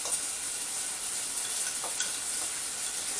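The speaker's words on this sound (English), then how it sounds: "frying that away" Pork sizzles as it fries in a pan at home, a steady, bright crackling hiss that fills the clip, with a few faint clinks of a utensil and no talk.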